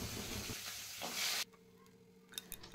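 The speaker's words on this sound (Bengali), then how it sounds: "ভাবছি সেই পাট শাকটা ভাজা করব" Jute leaves frying in a pan give off a loud, close hiss and crackle with some stirring, then the sizzle drops away to a quiet background with a few light clinks.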